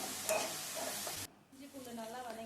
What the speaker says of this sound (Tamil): அதை பேஸ்ட்டை வந்து சேர்த்துக்கலாம் இது நல்லா ப்ரௌன் கலராக வதங்கி வரணும்